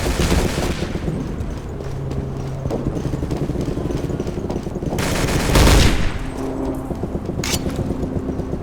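Grenade launcher blasts and rapid gunfire from a video game shootout, a dense run of loud shots with bursts of automatic fire and one heavier explosion partway through, all close and continuous with no talking.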